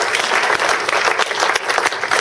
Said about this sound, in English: I want to give a great big round of applause to Mazdak